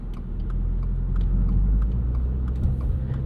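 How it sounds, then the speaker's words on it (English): 2022 Subaru WRX gently accelerating up to speed while merging onto a highway in comfort mode: a steady, low engine and road rumble heard from inside the car, without strong revving. "I'm going to go ahead and merge on the highway here. Take it nice and easy up to speed."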